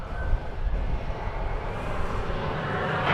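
Airliner on a takeoff run at DFW Airport, a steady broad jet-engine roar with low rumble, loud and sustained throughout with no talk.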